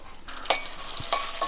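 Panch phoron spices tempering in hot oil crackle and sizzle briefly, with a couple of sharp stirring clicks close by, and no voices.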